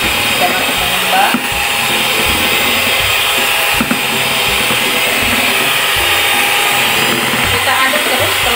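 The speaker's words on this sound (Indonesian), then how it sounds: "Kita aduk terus telur tadi sekitar 15 menit ya." An electric mixer beats eggs at high speed, a loud, steady, unbroken whirring drone that holds at the same level from start to finish.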